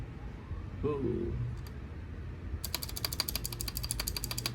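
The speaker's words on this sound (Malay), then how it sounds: "inilah dia keyboard daripada Razer, iaitu Huntsman version 2 optical sensor" Rapid clicking keystrokes on a Razer Huntsman V2 optical mechanical keyboard begin after a brief quiet stretch, a dense irregular patter of sharp clicks close up.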